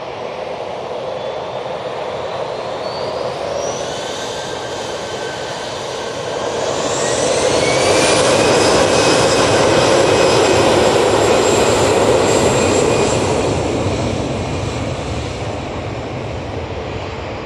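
A jet airliner departs from Manchester Airport bound for Bilbao, its engines roaring steadily and swelling louder midway as the aircraft climbs out, with a broad rushing whine and no voices.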